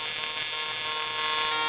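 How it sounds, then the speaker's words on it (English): HTP Invertig 221H TIG welder pulsing at 160 hertz on thin sheet metal, giving a steady, continuous high-pitched electrical buzz with many tonal harmonics, loud and close with no talk over it. "that's the beauty of being able to pulse on thin sheet metal"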